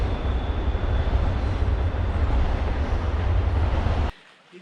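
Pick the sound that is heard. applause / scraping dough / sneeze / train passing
train passing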